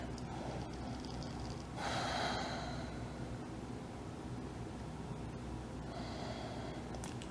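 Audible breaths taken during a core workout class, with a strong, forceful exhale or snort-like breath around two seconds in and a softer breath near six seconds, set against steady background noise.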